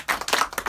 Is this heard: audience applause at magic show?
yes